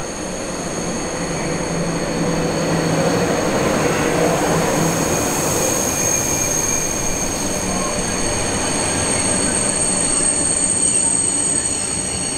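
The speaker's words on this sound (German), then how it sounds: "Ist halt ein Zug." A long train rolls steadily past at close range near Disneyland Paris, its wheels squealing in a sustained high metallic whine over a loud, continuous rumble.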